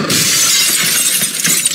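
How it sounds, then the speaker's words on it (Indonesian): A plate smashing, a loud, bright burst of shattering that carries on as a dense crash and clatter of shards filling the whole stretch. "Hancurkan piringan sama kalian."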